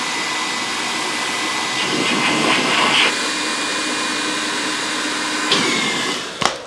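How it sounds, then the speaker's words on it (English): Vacuum pump drawing air out of an air mattress with a steady, loud whooshing hum, shifting slightly in tone as the air is pulled out, then a few clicks and knocks near the end. "So now you are drawing air in, you're sucking air out of the mattress."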